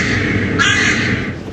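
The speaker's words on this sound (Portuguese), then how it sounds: "O silêncio é interrompido pelo corvo." A crow caws once loudly and close, a harsh call cutting through a constant background hum in a quiet town under curfew at the start of a war.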